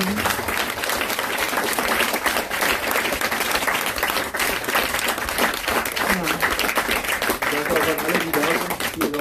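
An audience applauds with steady, dense clapping that fills the whole stretch, while a voice speaks faintly beneath it.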